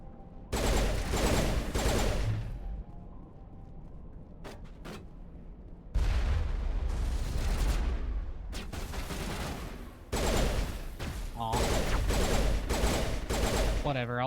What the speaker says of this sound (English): I'll just shoot you the normal way